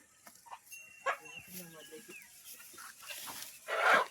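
Chickens and roosters cluck softly in the background, with a louder squawk near the end amid quiet rustling and faint voices.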